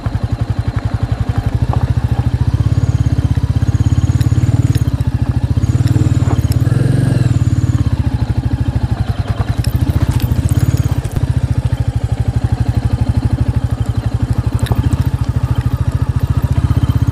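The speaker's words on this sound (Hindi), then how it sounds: "और बाइक राइड का मज़ा ऐसी ही रोड्स पे आता है" A motorcycle, a Royal Enfield Meteor, rides over a badly broken, zigzag road with patches of off-road surface, its engine a steady close rumble throughout, with rattles and jolts over bumps.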